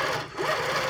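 A quilting sewing machine stitches in a quick, continuous mechanical whir, close and steady for under a second with no talk.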